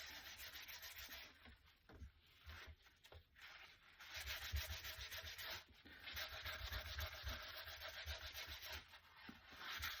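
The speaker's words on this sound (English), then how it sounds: "Try not to rub too hard, although you want to buff up the embossing" Steady rubbing and buffing over embossed papercraft card layered with inked leaves, a continuous dry scratchy friction that swells louder in long passes, close and alone with no talk.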